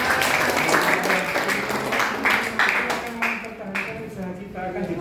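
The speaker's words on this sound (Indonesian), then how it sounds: "ini tepuk tangan dulu ya" Audience clapping at a talk, a loud, close round of applause with distinct hand claps, while a voice or background tones carry on underneath.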